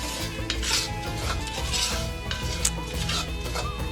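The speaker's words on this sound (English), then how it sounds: "I'm just going to coat that rice in that oil, slightly toast it before we add everything back into the pot" Rice being stirred in oil in a pot while it toasts, with a steady scraping, rasping rhythm of a utensil against the pot and a faint sizzle underneath, no talking.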